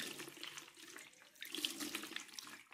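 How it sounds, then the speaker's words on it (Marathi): Cold water is poured over cooked wheat-flour and tomato dough, making a soft, continuous trickling splash that swells slightly toward the end, faint and quiet with no voices. "याच्यावरती लगेच टाकून घ्यायचं आहे आपल्याला थंड पाणी"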